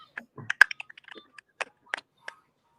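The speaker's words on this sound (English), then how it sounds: "It sounds like someone's typing." Rapid, irregular keyboard typing clicks near a conference-call microphone, a loose burst of sharp taps followed by scattered single keystrokes with quiet gaps.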